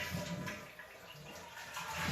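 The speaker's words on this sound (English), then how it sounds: "Flush it again, empty out all that water." A toilet is flushed to empty its tank after the water supply is shut off: a steady rushing of draining water at moderate volume, with no speech.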